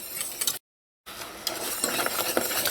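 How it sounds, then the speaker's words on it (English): Pastry cream thickening in a pot on the heat is stirred continuously, giving a soft scraping and bubbling texture, briefly cut to silence partway through. "So make sure you keep stirring and stirring because we want this"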